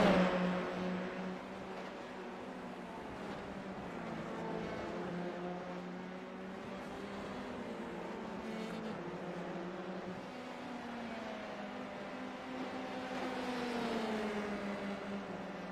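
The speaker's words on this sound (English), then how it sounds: "Pulls out very late out of the draft on the brakes to edge out Jared Ziegler" Formula 3 cars in a sim racing game rev and brake hard into a corner, sustained engine tones sweeping down and up in pitch at a steady moderate level, with no talk.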